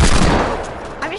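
Gunfire in a multiplayer shooter video game: a dense, loud burst of rapid shots lasting about a second, with a voice faintly underneath.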